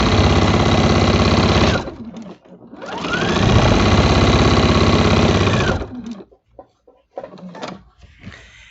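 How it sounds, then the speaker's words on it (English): Near and loud, a sewing machine stitches diamond-shaped quilting lines across a small Christmas quilt in two long continuous runs with a pause between, then stops into scattered light handling clicks. "these diamond-shaped quilting lines would look pretty cool on here"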